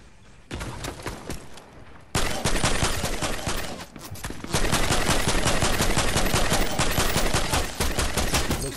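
Rapid automatic gunfire rattles in a video game, long loud sustained bursts after a brief quieter stretch, with a short pause in the middle.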